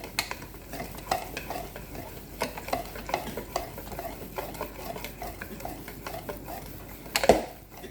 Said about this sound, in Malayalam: ഇതെല്ലാം കൂടെ നമുക്കിതൊന്ന് നല്ലതുപോലെ ഒന്ന് ഇളക്കിയെടുക്കാം